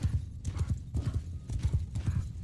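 Hooves of noble horse archers' mounts in the game Bannerlord, during a forest battle, beat out a steady, busy clip-clop of several horses close by, with a brief whinny mixed in.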